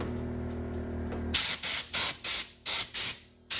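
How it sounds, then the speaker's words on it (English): Compressed air hose blowing off the engine bay of a Dodge Avenger / Chrysler 200 during valve cover gasket work, heard as six loud, close bursts of hissing air in quick succession after a low steady hum. "we just want to blow it off with a little air hose here."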